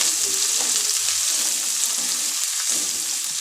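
Onions sizzle in a hot pan for pulao, a continuous bright hiss close up and fairly loud, with a few soft stirring scrapes underneath.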